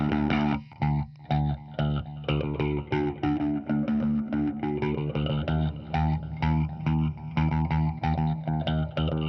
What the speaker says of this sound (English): It's got a phaser sort of effect on it that's making it shift around.